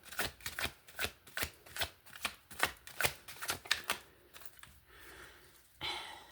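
A deck of tarot cards is shuffled by hand in quick, crisp riffles and bursts, about a dozen sharp flurries in steady rhythm that thin out near the end, close and clear with no talk.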